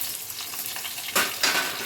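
Ridge gourd with salt and turmeric sizzles steadily in a pan, with two louder hissing surges as the pieces are stirred or shifted.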